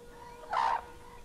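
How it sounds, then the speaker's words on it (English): An eastern sarus crane in Cambodian wetlands gives a single loud, brassy call that lasts about a quarter second and stands out clearly against quiet background noise. "The eastern sarus crane."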